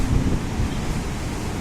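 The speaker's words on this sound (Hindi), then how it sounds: "ये बारिश देखें हवा के साथ है।" Strong wind drives rain across Karachi during a windstorm, a steady rushing roar with low buffeting gusts against the microphone, loud and continuous with no voices.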